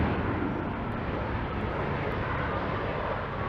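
An airplane flies near the Toronto waterfront airport, a steady, broad engine roar that stays even and fairly loud throughout, with no speech.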